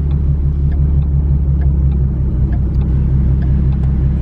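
A Mercedes SLR on the road in Highland Village gives a loud, steady low engine rumble close by, holding strong for the whole stretch with no voices over it.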